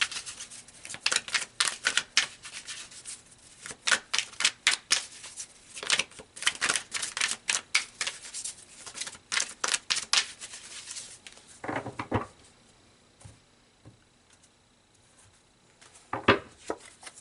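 Tarot cards shuffled and pulled by hand, a long run of quick crisp riffling snaps and slaps, then a pause with a few isolated card flicks near the end.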